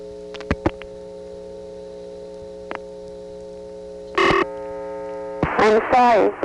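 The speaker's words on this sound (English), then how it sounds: "Morgantown picks up a trunk to some Conestoga step, maybe Birdsboro itself, and dials the last 5 digits." A 1976 step-by-step telephone exchange in Morgantown, Pennsylvania, sends dial pulses over a trunk: steady tones with a few sharp clicks, then bursts of warbling, chirping tones near the end.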